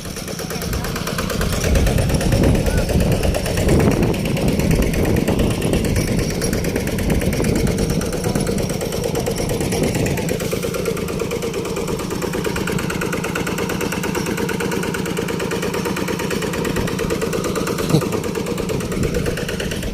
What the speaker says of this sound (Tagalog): Ito yung kanyang generator.